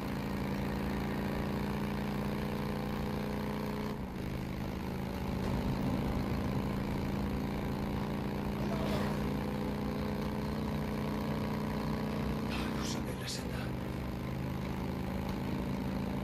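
A motorcycle engine from the game Days Gone idles steadily and continuously at a low, even hum for the whole stretch, with brief faint clicks and shifts along the way and no talking.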